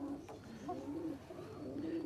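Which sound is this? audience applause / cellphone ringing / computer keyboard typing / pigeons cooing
pigeons cooing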